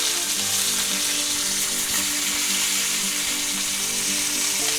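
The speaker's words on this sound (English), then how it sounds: "Okay, they're done searing." Pork chops sear in a hot pan, giving off a loud, continuous, close sizzle with a steady crackling hiss and no talking.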